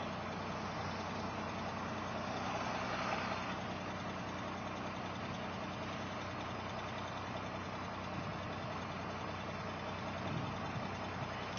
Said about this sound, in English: Still don't think the motor sounds right.